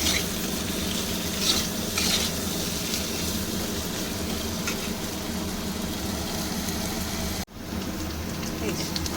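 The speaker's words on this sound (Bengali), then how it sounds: "নুন দিয়ে আলুটা ভেজে নিলাম।" Potatoes frying with salt in a pan for a spicy boal fish dish, a steady loud sizzle with stirring scrapes, continuous and close, with a brief dip near the end.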